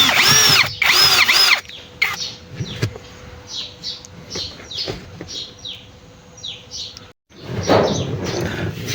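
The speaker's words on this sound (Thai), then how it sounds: "สว่านไฟฟ้าก็ได้นะ" A cordless electric drill whines in short bursts as it backs screws out of a car's cabin air filter cover, followed by small clicks and handling noises, with bird chirps in the background.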